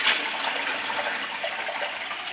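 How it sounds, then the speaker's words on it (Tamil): Stored water pours steadily into a fish aquarium, a continuous close rushing splash at even loudness throughout with no voices. "நம்ம இப்போ தண்ணியை ஃபுல் பண்ணிடலாம்"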